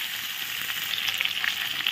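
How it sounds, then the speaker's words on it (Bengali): Potato, eggplant and slit green chilies fry together with gourd greens in a pan, producing a continuous close sizzle with small crackling pops throughout and no talking. "এখন দেখো, আলু বেগুন আর কাঁচা লঙ্কা চেরা দিয়ে দিই। একসঙ্গে ভালো করে ভেজে নেব।"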